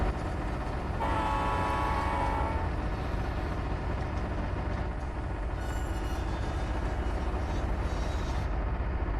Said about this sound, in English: Our very first diesel locomotive